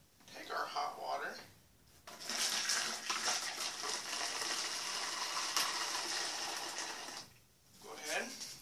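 Hot water pours steadily into a container for an egg science project, a close rushing gush lasting several seconds, with soft whispery voices before and after.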